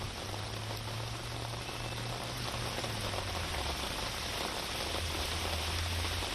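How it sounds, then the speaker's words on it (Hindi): Heavy rain falls on Chandni Chowk in Delhi during a cold, foggy winter spell, a dense and steady loud hiss of downpour with a low hum running underneath. "चांदनी चौक में भी देखिए झमाझम बारिश, अच्छी खासी बारिश वहां पर भी हुई है।"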